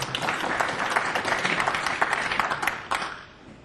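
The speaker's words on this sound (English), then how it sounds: "Applause, please." A crowd applauds steadily, dense clapping at an even level that thins out and fades toward the end.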